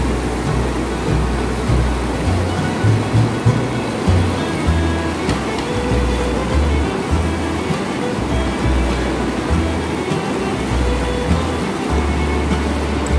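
The Ganges rushes swiftly past the bank at Haridwar, a loud, constant churning roar of fast water with low pulsing surges and no voices over it.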